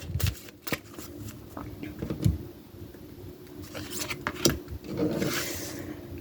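Tarot cards are shuffled for a love reading: soft papery riffles and rubbing, interspersed with sharper card taps and slides, close and fairly quiet, with no talking.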